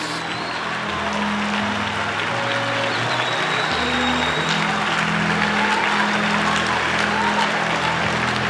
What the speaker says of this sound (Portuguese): exalta a Deus com uma forte salva de palmas